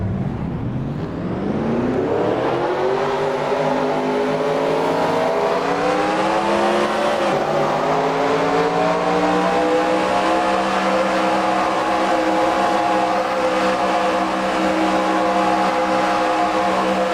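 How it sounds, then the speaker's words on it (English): Race car engines in a racing video game start up together and rev, rising into a loud, sustained multi-engine roar with climbing pitch, then settling into a steady drone. "Drivers, start your engines!"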